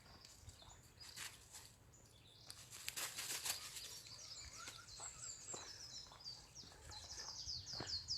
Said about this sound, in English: Give me a wee thumbs up or a yes if you can hear the bird songs.